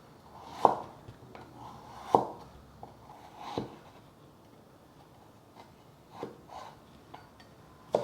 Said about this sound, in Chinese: 继续切片